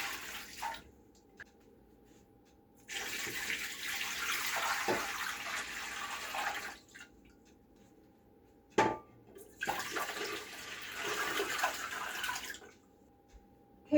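Water pours into a pot for pressure canning in two long, steady splashing runs separated by quiet pauses, with a sharp clunk between them and no talking.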